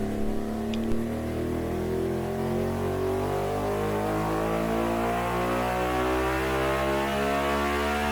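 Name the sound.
Ducati Monster 937 motorcycle engine accelerating to top speed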